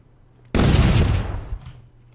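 A single sudden loud grenade blast in the video game Takedown: Red Sabre, with a sharp onset and a rumbling decay lasting about a second before fading.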